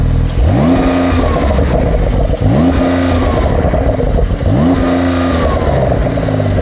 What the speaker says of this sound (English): I'm gonna let you hear it for real. So go on, rev it up.